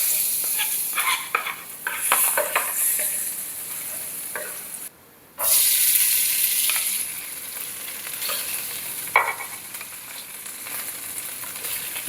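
Fried rice is stir-fried in a pan with a loud, close sizzle and a scraping utensil, cut off by a brief silence midway before the frying carries on steadily.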